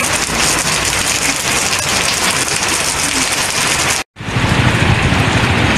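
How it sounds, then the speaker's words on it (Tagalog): Heavy rain pours loudly outside an engineering building in Baguio, a dense, steady roar of drops hitting surfaces, briefly cut off by a split-second gap before resuming just as strongly. "Lakas ng ulan."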